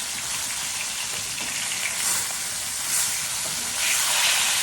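Fish fries in a pan with a steady, loud broadband hiss and sizzle that swells slightly in waves, with no talk over it.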